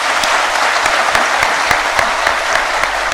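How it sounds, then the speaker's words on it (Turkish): Steady applause from an audience at a Yörük Türkmen cultural workshop in Antalya, a dense wash of clapping holding at an even level for the whole stretch with no voices over it. "Sizler de alkışlayın."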